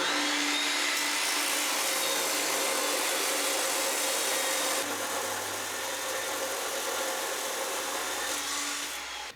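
A steel pin on a truck winch redirect build is cut down with a power tool. A loud, continuous grinding whine with a rough noisy edge runs for about nine seconds and shifts slightly in tone midway. Nobody speaks.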